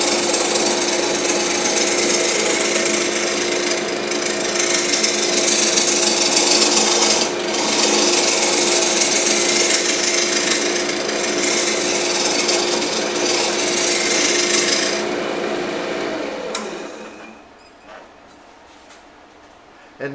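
Osage orange wood spinning on a lathe while sealer is cut off, a loud continuous rough grinding whine that holds for about fifteen seconds before the tool lifts away and the motor winds down.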